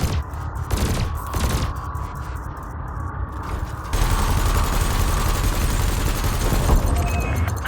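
Repeated cannon fire at floating canisters in the space game Elite Dangerous, a steady dense barrage of booming shots that grows louder and heavier partway through, heard with no talking.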